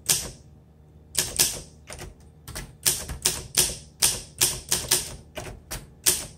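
Typing on a 1955 Olympia Deluxe SM3 vintage manual typewriter: a run of sharp, close key strikes in irregular bursts, a brief pause early on, then steady clacking with occasional heavier carriage-like hits.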